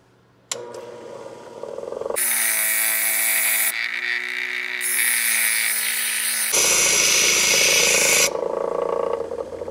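A power tool sands the edges of a handmade guitar pick, starting with a thump, then whining loudly and steadily at shifting pitch in close-up bursts with no speech.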